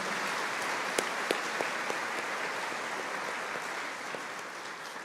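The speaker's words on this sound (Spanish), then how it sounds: "Dele la gloria al Señor con un fuerte aplauso" A church congregation claps loudly after a call to give glory to the Lord, a steady dense wash of applause with a few sharp individual claps standing out, no talking over it.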